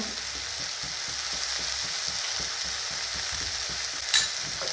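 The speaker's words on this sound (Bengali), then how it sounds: "আর মশলাটাকে ভালো করে মিশিয়ে নেব।" Masala frying in a pan for chicken do-peyaja, a steady close sizzle with a regular stirring scrape throughout and one brief sharp clink near the end.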